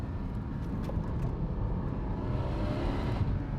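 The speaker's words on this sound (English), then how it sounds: "I just hope that I have a microphone capturing this exhaust still mounted" A Porsche 718 GT4 exhaust roars loud and close in a steady, continuous drone of deep engine rumble, with no voices over it.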